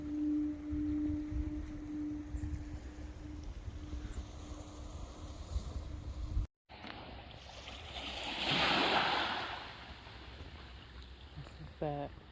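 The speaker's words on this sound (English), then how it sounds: "You hear the foghorn because it's foggy." A low, steady foghorn tone drones on a foggy Nova Scotia coast through the first half over wind and surf, then breaking waves swell louder near the shore.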